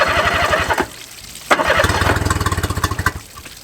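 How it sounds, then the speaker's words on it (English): A Honda 50 outboard motor cranks and catches, with two bursts of chugging firing separated by a short pause, the second settling into rapid putters before cutting out, loud and close. "It's time to see if we can get this motor to run"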